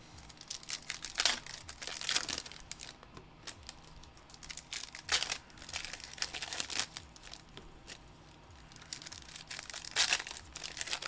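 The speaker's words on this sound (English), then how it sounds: "I'm like power ripping it." A trading card pack is torn open forcefully, with bursts of crinkling foil and ripping wrapper coming in several uneven clusters, close and fairly quiet with no talk.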